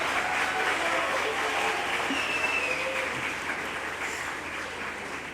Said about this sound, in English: A big round of applause for initiatives on building number 3.